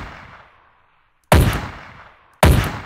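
Two loud, sharp sniper rifle shots in a Call of Duty match, each a sudden crack followed by a long decaying echo, spaced about a second apart after a quiet lull.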